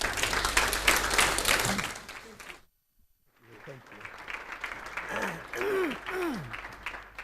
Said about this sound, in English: please a round of applause for Satish